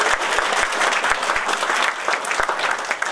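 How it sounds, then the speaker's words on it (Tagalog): Studio audience applause on a Filipino variety show, a steady dense wash of many hands clapping at moderate loudness throughout, with no talk over it. "Palakpakan huli natin."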